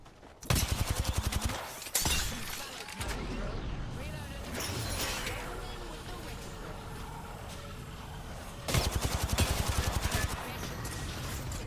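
Bursts of automatic gunfire and impacts from the battle royale video game Apex Legends during a ranked match, loud rapid volleys opening and closing the stretch with steady combat noise between, over in-game voice lines.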